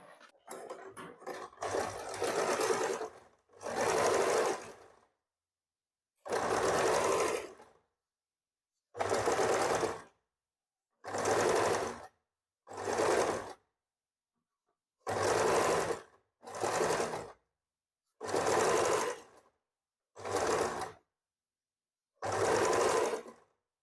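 A sewing machine stitching a baby frock runs in about a dozen short, even bursts separated by silent pauses, close and clear, with some handling rattles at the start.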